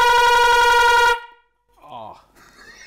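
A loud two-tone vehicle horn blares steadily for about a second and stops abruptly, then a voice speaks briefly.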